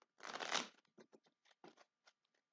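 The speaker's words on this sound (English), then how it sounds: "I just want to shuffle these cards" A deck of cards being shuffled close up: one long riffling burst followed by a series of short, separate card flicks and taps, fairly quiet with no talking.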